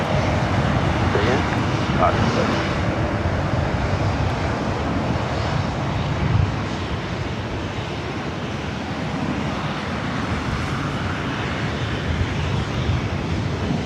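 A fixed-wing airliner roars steadily at LAX airport, loud and close, a continuous thunderous engine wash with a voice briefly speaking over it.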